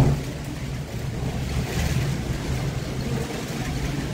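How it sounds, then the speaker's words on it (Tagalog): Strong storm wind roars steadily outside a house, a dense, continuous low rumble with gusty swells and broadband noise buffeting the microphone throughout. "Dito, grabe lakas ng hangin, oh."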